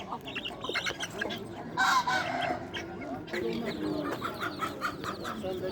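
Chickens cluck and squawk in overlapping bursts at an outdoor poultry market in Osmaniye, with honking, goose-like calls and other fowl noise mixed in and faint human voices in the background.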